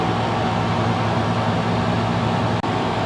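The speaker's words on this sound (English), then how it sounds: "of course, I have the air conditioner running." A camper trailer's air conditioner, in a 2020 Max XL BoonDock Edge, runs steadily indoors as a constant broadband hum and whoosh, alone and unbroken apart from one brief dip near the end.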